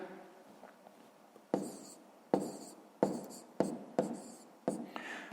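A pen writes numbers by hand while working a fifth-grade subtraction exercise, making about six short, distinct scratching strokes at close range, each followed by a fading scrape, with quiet pauses between.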